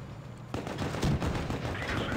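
A tank cannon fires in World of Tanks Blitz, one sudden heavy boom followed by a rolling rumble of battle noise.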